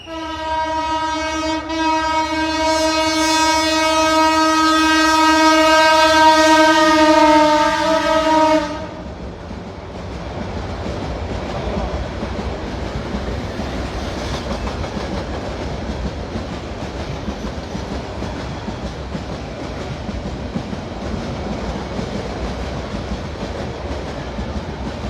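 A train passes, its loud sustained horn blaring for several seconds before cutting off, followed by continuous rumbling and clattering of wheels on rails.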